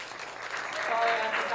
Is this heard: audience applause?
yes